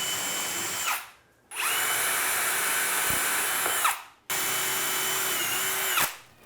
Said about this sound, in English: Just gonna pre-drill the pine.